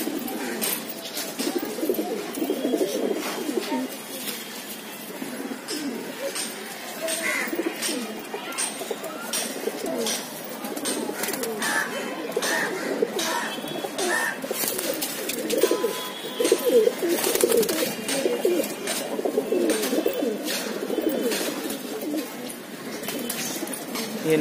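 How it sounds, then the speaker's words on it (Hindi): Several Borderwale pigeons in a loft coo continuously nearby, overlapping soft throaty calls with occasional wing flutters and scattered chirps throughout. "ये नर का कबूतर है,"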